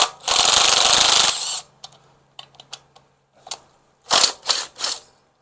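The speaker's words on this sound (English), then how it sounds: "So this is going to be as quick and simple as undoing the bolts." Bolts being undone on a Ford 302 small-block V8 water pump: a long loud burst of power-tool whir, then a scatter of short metallic clicks and clanks and a few sharp rattling bursts, close up with no talking.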